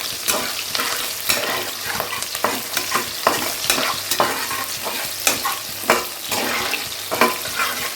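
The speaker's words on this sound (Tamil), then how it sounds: "அப்புறம் தேவையான ஆனியனும் பச்சை மிளகாயும் போட்டு ஃப்ரை பண்ணிக்கலாம்." Onion and green chillies frying in a pan, a loud steady sizzle with repeated scraping stirs of a spoon against the pan, close and without talk.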